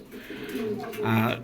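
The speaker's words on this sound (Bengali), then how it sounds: "দর্শক এখানে দেখতে পাচ্ছেন একজোড়া বোম্বাই কবুতর" A pair of Bombay pigeons coos in a brief, soft, low throaty call, close by, with a voice talking over it.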